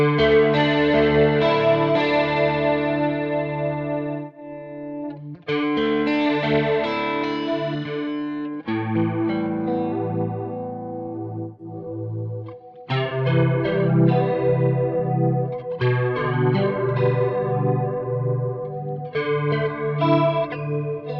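An electric guitar runs through a Quad Cortex chorus effect in voice mode, with sustained chords and picked phrases swirling in a thick, shimmering, warbly tone, loud and alone across several strummed passages.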